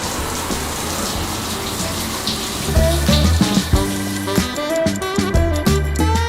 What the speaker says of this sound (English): we're finally gonna show you guys the shower